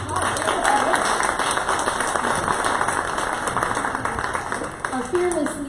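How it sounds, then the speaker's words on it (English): Audience applause for an 11th-grade student in a high school entrepreneurship class, a steady wash of clapping that lasts throughout, with voices mixed in. "Let's give a round of applause."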